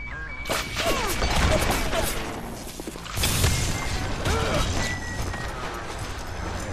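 Enemy gunfire in the video game BioShock, inside the Medical Pavilion, with bursts of shots and crashes that fill the scene loudly throughout and briefly drop off near the middle before resuming.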